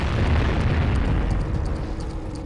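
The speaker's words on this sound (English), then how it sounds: "Why was that explosion so loud?" A loud explosion in the video game Jak and Daxter, a heavy low rumbling boom that fills the moment and slowly decays, with faint game effects ticking above it.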